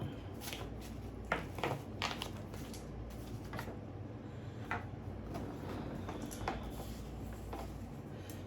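Tarot cards shuffled by hand during a spiritual reading, a steady run of soft riffling flicks and slaps at close range, fairly quiet over low room hum with no talking.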